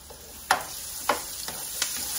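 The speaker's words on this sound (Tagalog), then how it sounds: "Ipainit ang oil hanggang mainit na siya. Ilagay na natin ang onion." Onion dropped into hot oil in a pan, with a steady background sizzle and a few sharp crackling bursts as pieces hit the oil and get stirred, close and fairly quiet.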